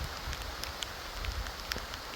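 Light rain patters on an RBM UP-5 hot tent on a chilly spring day, a faint, soft, irregular ticking of drops over a low rumble, with no voices.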